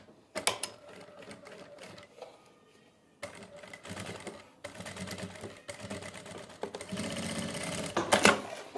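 An electric sewing machine stitches a half-inch folded hem on a narrow salwar, running in close, rattling bursts with brief pauses between runs.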